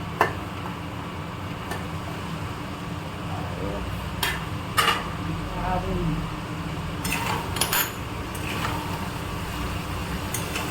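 Desi chicken curry is stirred in a pot, giving scattered metallic clinks and scrapes of a utensil against the pot over a steady sizzling background.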